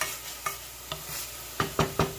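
Chicken mole ingredients cook in a pan over medium heat, with a soft sizzle under a handful of sharp scraping stirs and clinks. The strokes are spaced apart at first and then come as a quick cluster of three near the end.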